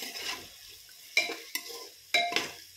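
Masala rice with onion masala and black chili powder stirred in a pot, quiet low sizzle broken by several sharp spoon-on-pan scrapes and clinks at irregular intervals.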